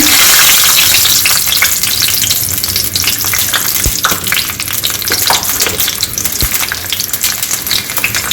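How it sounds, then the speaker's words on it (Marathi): Garlic dropped into hot oil sizzles and fries loudly and steadily for several seconds, a dense crackling hiss with occasional small pops close by, ahead of chutney for idli and dosa. "इथे आपलं तेल गरम झालेलं आहे आता याच्यामध्ये आपण लसूण टाकून द्यायचं आहे"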